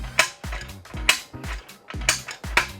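Rockwell Jawhorse RK9003 foot pedal pressed repeatedly, the clamp mechanism engaging in a series of sharp ratcheting clacks and creaks, about five strokes in a quick, uneven rhythm, close and clear.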